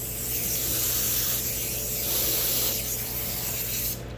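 Aerosol spray paint jetting onto rusted metal, a steady close hiss that swells and eases in pressure over several seconds before cutting off abruptly at the end.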